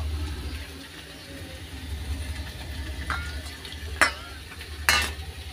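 Garlic frying in a pan with mustard nearby, a low soft sizzle under a faint background hum, with two sharp spoon scrapes near the end, close but quiet.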